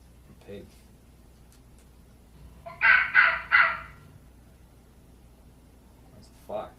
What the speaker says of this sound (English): That's a fox.